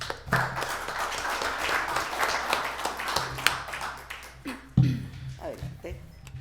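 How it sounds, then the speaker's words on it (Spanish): An audience at a commemorative conference on the Mexican Revolution claps, a dense patter of applause that swells and fades over several seconds, with someone speaking over and after it. "Demos un aplauso al maestro."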